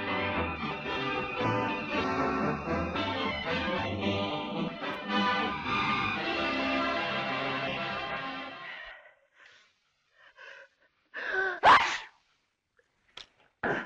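A single sharp sneeze follows several seconds of orchestral film score from a 1939 film, then a brief quiet and a few faint breathy sounds afterward.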